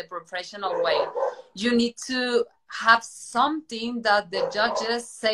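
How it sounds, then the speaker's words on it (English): A pet dog barks indoors, its short yaps mixed under a person's continuous speech during a live online conversation. "Sorry for my dog. It's because probably saw a dog crossing the street."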